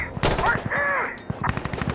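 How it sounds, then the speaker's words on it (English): Burst gunfire from a rifle in Insurgency Sandstorm, rapid close shots in quick bursts with a brief pause between, mixed with game sound effects and a short voice. "Just gotta give it a little burst fire."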